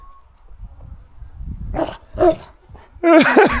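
A few short, sharp dog barks and yips in quick succession, close by on a farm, after a stretch of low rustling and shuffling.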